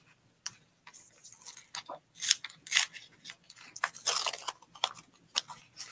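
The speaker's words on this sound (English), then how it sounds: "we're going to get our little envelope and we're going to open that up" A paper envelope is handled and torn open at a junior aviation camp making paper airplanes, giving close, crisp crackling and ripping bursts scattered over several seconds with no talking.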